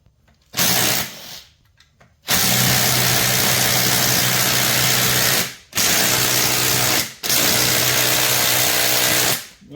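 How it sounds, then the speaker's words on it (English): A power tool whines loudly up close while removing bolts from the bottom end of a Polaris 700 Ranger/Sportsman engine, running in several long sustained bursts separated by brief pauses. "Take all these bolts off on the bottom end here."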